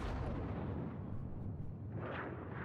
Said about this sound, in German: Buggeschütze schießen mal zuerst